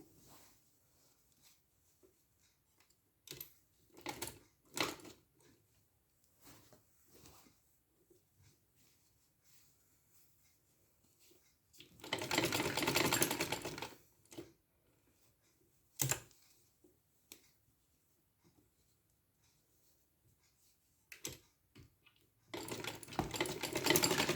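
A sewing machine stitches fabric along marked lines on a zigzag-design sleeve or trouser hem, running in several short bursts and two longer loud runs, close by, with quiet pauses between.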